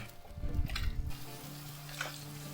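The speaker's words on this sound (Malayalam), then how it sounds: "ഇനി നമുക്ക് ഇതേ എണ്ണയിൽ തന്നെ 3 ഉള്ളി നീളത്തിൽ അരിഞ്ഞ് വെച്ചിട്ടുണ്ട്. അത് നമുക്ക് ഇട്ട് കൊടുക്കാം." Sliced onions sautéing in hot oil for Peshawari chicken kadhai, a soft close sizzle with a brief burst of stirring and clatter at the start.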